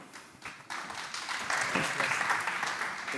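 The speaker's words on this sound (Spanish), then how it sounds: "damos un fuerte aplauso al doctor Iván Ibáñez." Applause from a conference audience in Andorra swells after a brief pause and builds steadily, a dense wash of clapping filling the room as a speaker is introduced.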